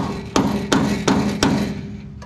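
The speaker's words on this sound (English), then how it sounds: "Let me get my little angle chisel." A hammer strikes an angle chisel against welded metal on a front suspension: four evenly spaced, loud metallic whacks with ringing tails, close up.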